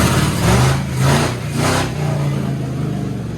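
An LS-swapped hot rod engine runs in gear, rising in three loud, close surges of revving before settling into a steady, rumbling run, with no talking.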